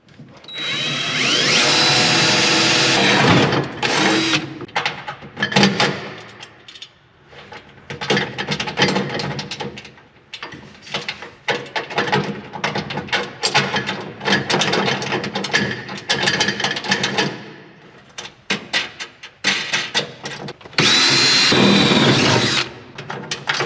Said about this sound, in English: I want to drill a couple holes in it